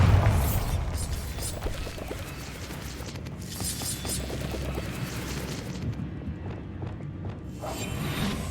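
Bombarda blasting spell going off in Hogwarts Legacy, a loud booming crash up front followed by a sustained rumbling, crackling din of debris and magical effects that stays dense for several seconds.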